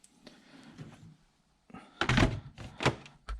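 A tool drawer slides shut in a workshop, with a soft scrape followed by two loud, close wooden-metal thunks about a second apart.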